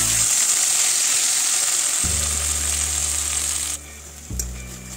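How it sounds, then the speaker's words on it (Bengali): Poppy seed paste dropped into hot mustard oil with black cumin in a karahi for a Bengali begun posto, giving a loud continuous sizzle and frying hiss with a low hum running beneath. "এবার এর মধ্যে খুব সাবধানে পোস্তটা দিয়ে দিন।"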